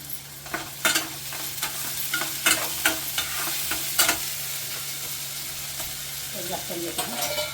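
Onion and garlic cooking in a pan for octopus curry, a soft continuous sizzle with repeated spoon scrapes and taps against the pot as it is stirred, close and moderate, with brief faint voice near the end.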